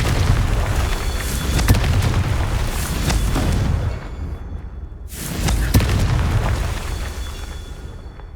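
In the Hogwarts Legacy video game, Confringo fire spell explosions go off in a loud, booming series, with heavy blasts and crackling bursts, a brief quieter gap, then another strong explosion and rumbling decay.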